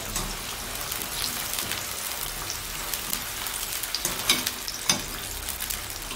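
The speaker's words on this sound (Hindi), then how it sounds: "तेल गर्म हो गया है, अब इसमें मैं प्याज डालूँगी। अब मैं इसे इतना फ्राई करूंगी कि ये बिल्कुल गोल्डन कलर का हो जाए।" Sliced onions frying in hot oil in a home kitchen, a steady broadband crackle and sizzle throughout with a few sharper pops and stirring clicks near the end, close and fairly loud with no voices.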